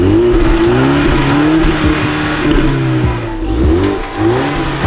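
A motorcycle engine, nicknamed Mafia, revs loud and close through a noisy exhaust, its pitch rising and falling in repeated throttle blips with a brief dip near the end, no voices.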